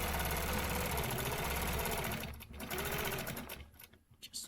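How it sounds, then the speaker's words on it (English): A sewing machine stitches lines across a quilt in a steady, rapid mechanical run that slows and stutters toward the end, close and moderately quiet. "I'm just going to go back all the way left to right, stitch all of these lines."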